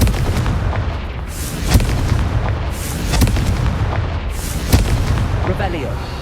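A Confringo blasting spell fires in the video game Hogwarts Legacy, several sharp explosive bursts popping over a dense, loud game soundscape, with impacts arriving irregularly over a few seconds.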